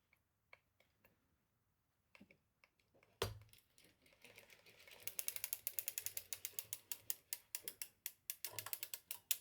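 A circular sock machine knits Kevlar yarn with quiet mechanical clicking. Sparse ticks at first give way to a steady, rhythmic ratcheting clatter as the crank turns.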